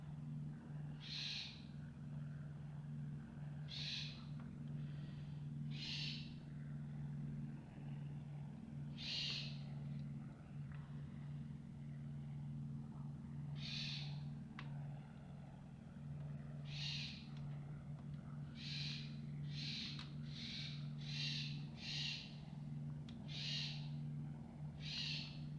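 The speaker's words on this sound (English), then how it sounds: "Fucking birds." In the IL-2 flight simulator, game birds give a series of short, clear hoots at irregular intervals, bunching up toward the end, over a steady low engine drone.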